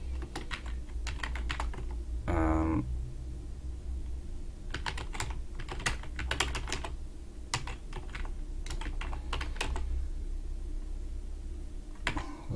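Typing on a computer keyboard, close and clear, comes in bursts of rapid keystrokes separated by short pauses.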